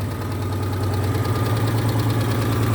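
A 1988 Citroen 2CV6 Dolly's small two-cylinder engine idles steadily just after starting, a loud, even, fast chugging with a constant low throb and no voices.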